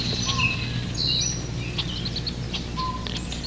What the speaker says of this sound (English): That's a very typical mobbing call.